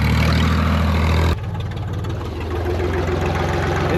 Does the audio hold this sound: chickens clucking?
no